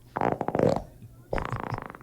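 Rough, crackling flatulence in two bursts, a longer layered one followed after a brief pause by a second, close and moderately loud in a quiet room.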